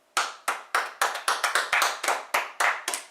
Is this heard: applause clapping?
yes